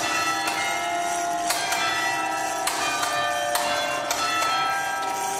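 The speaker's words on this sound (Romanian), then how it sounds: "La fiecare oră fixă, cele 8 clopote ale ceasului cântă Hora Unirii." Eight bells of a clock tower in Iași ring out the melody Hora Unirii, a steady sequence of loud, resonant strikes with overlapping ringing tones, close and filling the air.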